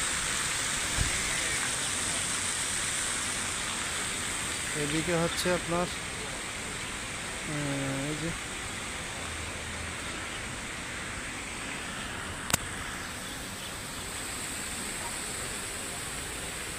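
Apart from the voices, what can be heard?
water fountain beside a drain near Masjid Jamek, Kuala Lumpur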